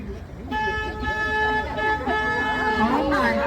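A riverboat horn on a San Antonio river cruise blows a long, steady harmonic toot that holds for about three seconds, loud and close, with voices talking beneath it.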